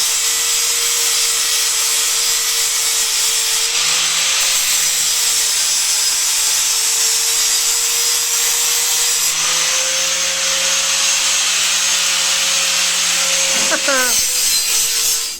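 Metal is ground on a Lincoln Town Car, a loud continuous whine of an angle grinder held close that dips and shifts in pitch as the load changes, running almost the whole time before cutting off.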